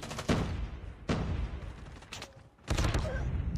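Shotgun blasts in the mobile shooter Call of Duty Mobile boom in a few heavy, spaced shots amid continuous game noise and background music.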